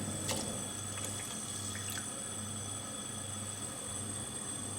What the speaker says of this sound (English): now the milk goes in